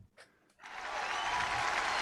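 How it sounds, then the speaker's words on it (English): Applause breaks out for a performer at an online show, a dense wash of clapping that swells after a brief pause and holds steady and loud to the end. "Give a round of applause to OMAR OLUSION"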